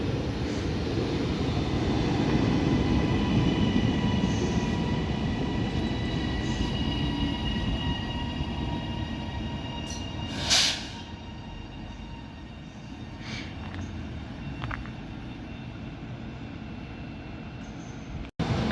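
A Class 397 TransPennine Express train runs through Oxenholme station on the West Coast Main Line, a loud sustained rumble and rail roar that slowly eases, with a brief sharp squeal midway and a thump at the end.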